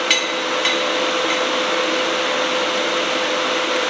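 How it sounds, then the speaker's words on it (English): A welder at 70 amps tacks an oxygen sensor bung in place, a loud steady buzzing hiss held for several seconds after a brief crackling start, close to the microphone with no talking. "Alright, we got the welder fired up."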